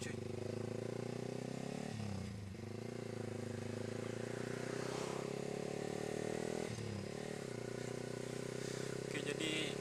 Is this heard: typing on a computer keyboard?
no